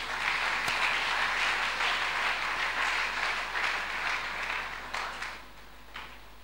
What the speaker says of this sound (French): Nous acclamons. Maboko.